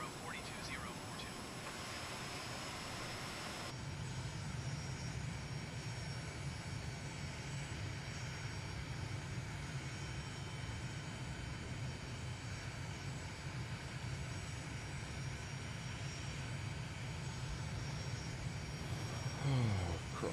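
Airliner engines idle and whine steadily at close range as the aircraft taxis in a flight simulator game, a continuous low drone holding level for the whole stretch, with radio voice exchanges at the start.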